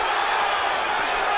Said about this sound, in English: Well, the crowd's not booing anymore. They're cheering Paul Vaden on.